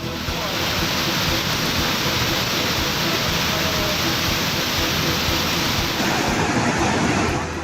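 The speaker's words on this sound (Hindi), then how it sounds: "सैलाना के केदारेश्वर मंदिर में भारी बारिश के बाद ये झरना शुरू हो जाता है" A waterfall at Kedareshwar temple in Sailana, running after heavy rain, gives a loud, unbroken roar of falling water that stays steady throughout.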